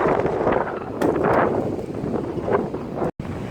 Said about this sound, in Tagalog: Oh, malakas yung hangin, no?